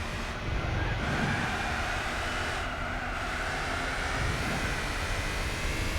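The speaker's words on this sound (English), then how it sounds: "Ridiculous car sound." Sustained engine roar from a Gran Turismo 4 race car, a steady droning whine holding at an even, moderately loud level for several seconds with no voices.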